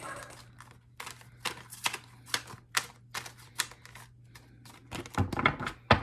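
Tarot cards being shuffled close by, a run of quick papery riffles and taps in uneven bursts, growing busier toward the end.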